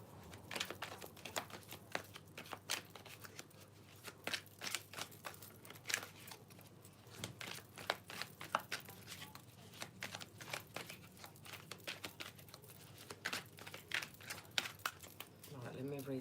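Stiff tarot cards flick and riffle in quick, crisp bursts, a steady run of close clicking and shuffling with a voice now and then.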